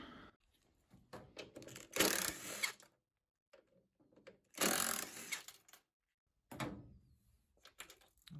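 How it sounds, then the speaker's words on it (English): Screws are taken out of the motor of a Hotpoint Smart Tech washing machine with failed bearings. Three loud, close whirring bursts are separated by quiet pauses and softer clicks. "I'll take out these 2 screws and we'll pull that motor out."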